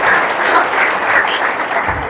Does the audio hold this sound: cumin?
no